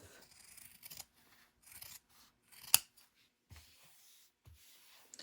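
Scissors snip fabric while trimming collar corners and seam allowances: a series of soft, close cuts and rustles with one sharper snip in the middle.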